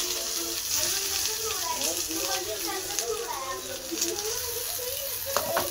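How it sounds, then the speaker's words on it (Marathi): Chopped onion frying in hot oil with cumin and curry leaves in a pan, a steady close sizzle and crackle running under a voice talking throughout. "आता कांदा तळून घेऊ"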